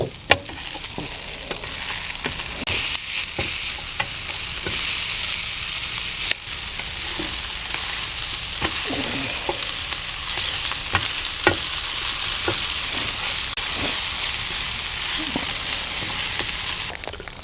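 Sweet peppers grill on a Blackstone griddle at a campsite, a loud, steady sizzle with frequent scraping and tapping of a spatula stirring them across the hot surface, continuous throughout.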